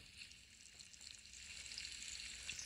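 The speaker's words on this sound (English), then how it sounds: "Let me cook me up some bacon." Bacon sizzles and crackles in a pan inside the horror video game It Lurks, a steady, faint frying hiss with no voices over it.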